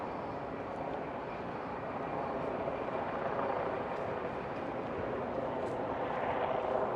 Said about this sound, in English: Some helicopters above here.